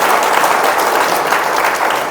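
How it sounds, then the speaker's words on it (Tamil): Audience at a public meeting in Salem clapping hands, a dense, steady round of applause from a crowd, loud and sustained with no talk over it. "அட்லீஸ்ட் இப்போ நல்லா கை தட்டுங்க"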